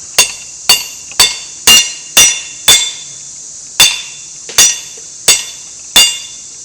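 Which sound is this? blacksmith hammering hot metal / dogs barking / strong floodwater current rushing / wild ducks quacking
blacksmith hammering hot metal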